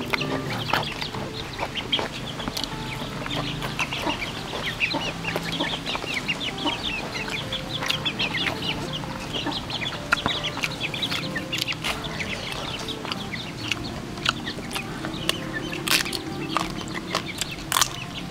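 Several chickens cluck and chatter continuously nearby, with sharp scattered calls over a busy outdoor background.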